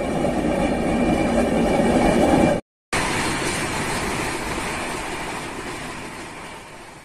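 Gitanjali Express passenger train running through Sini Junction in Jharkhand without stopping, a loud continuous rumble of wagons and wheels on track, briefly cut out mid-clip then carrying on steadily.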